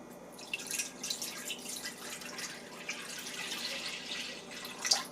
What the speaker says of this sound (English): I'll pour in 2 cups of whole milk.